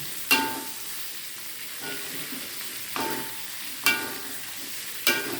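Tempeh sizzling in a pan of hot oil, a steady close frying hiss broken by several sharp scrapes and stirs of a spatula at irregular intervals.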